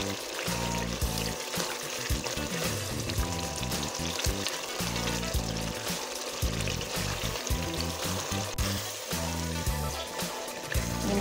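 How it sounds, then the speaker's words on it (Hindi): Spices with turmeric fry in a pan for daal mash, a continuous loud sizzle with faint stirring scrapes and no talking. "मसालों को भी अच्छी तरह भूनेंगे।"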